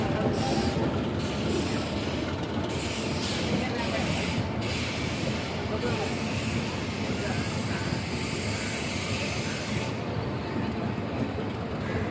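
Intercity SF Express train departing a station, a steady broadband rumble and rush of rolling carriages that holds at a constant level throughout, with a faint voice under the noise.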